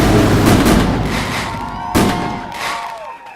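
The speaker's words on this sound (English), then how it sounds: "We're gonna give her fireworks." Fireworks sound effect played during a live futures trading stream: a couple of sharp bursts with crackling decay and a whistling tone, the second blast near the two-second mark, loud and without speech.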